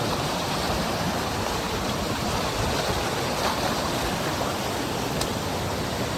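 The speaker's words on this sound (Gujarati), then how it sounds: "કદાચ અહીંયા સુધી પાણી આવતું હોય એટલે ફૂલ જ ઘોષ પડતો" Continuous roaring rush of a stream swollen by heavy rain, loud and steady throughout, like a powerful flow or cascade nearby with no voices.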